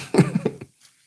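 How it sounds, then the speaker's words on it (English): A person with a nagging cough gives a short, close cough of two or three quick bursts, followed by a brief, faint throat sound and then quiet. "I've been dealing with a nagging cough"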